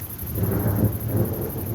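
A night thunderstorm with lightning and a heavy downpour: thunder rumbles low and long beneath a steady, loud wash of pouring rain, with no voices.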